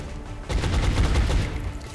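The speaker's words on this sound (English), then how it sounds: "So we are just going to be taking these pot shots." Game gunfire in XCOM: Long War, a dense burst of rapid shots rattling out after a brief quiet start, loud and close with a sharp high whine running above, no talking.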